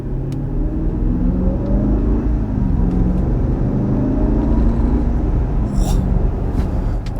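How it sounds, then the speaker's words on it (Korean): A Mercedes-Maybach GLS 600 SUV's V12 engine and exhaust in sport mode, heard climbing toward 3500 RPM, give a deep, smooth rumble with rising tones under a calm cabin hush, steady and moderately loud throughout. "스포츠 모드에서 3500 RPM으로 갈 때 엔진 사운드랑 배기 사운드 들리는 이 느낌이 12기통 메르세데스의 그 느낌을 만들어 놨어요"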